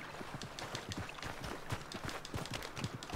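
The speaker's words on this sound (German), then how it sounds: "Kommt da mein Pferd etwa?" A horse's hooves clip-clop in a quick, steady rhythm in the video game Red Dead Redemption 2, soft and low in the mix.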